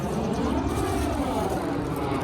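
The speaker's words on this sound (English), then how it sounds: "these damn planes." Loud, continuous roar of an airplane passing overhead, a broad rumbling wash that fills the whole short stretch without letup.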